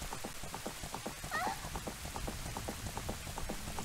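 Rain falls in Zelda Ocarina of Time, a steady patter of drops striking a surface, close and even throughout, with a short musical chime partway through and no talking.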